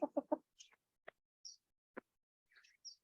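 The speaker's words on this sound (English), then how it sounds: "Hello, chicken." A chicken clucks during an outdoor yoga class: a quick burst of three low clucks, then scattered short clucks and higher chirps, fairly close and alone without talk.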